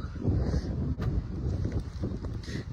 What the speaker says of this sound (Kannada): ತಣ್ಣ ಗಾಳಿ ಬೀಸ್ತಿದೆ ಆಯ್ತಾ, ಒಂಥರ ಚೆನ್ನಾಗಿ ಅನ್ನಿಸ್ತಾ ಇದೆ.